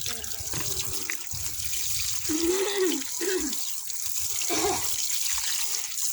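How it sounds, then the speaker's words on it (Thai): Prepared water is poured and splashed over a Honda Wave Z motorbike during a wash, a steady close rush of flowing water with gurgling bursts and trickles, and a voice speaking briefly underneath. "นี่น้ำเราเตรียมมาแล้วเราก็ลาดไปเลย"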